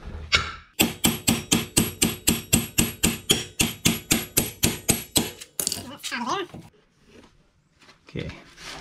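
Hammer blows on a car axle to free the hub of a 2014 Honda Pilot ring out in a fast, steady series of about twenty sharp metallic strikes, followed by scraping and clanking.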